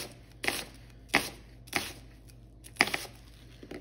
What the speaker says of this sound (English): simply just cut thin little slivers of onion